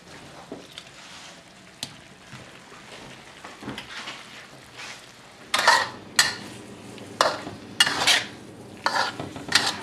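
Shrimp is stirred into vegetables cooking down in wine in a pan, with a quiet simmer at first and then several louder scraping, clattering stirs of the utensil against the pan.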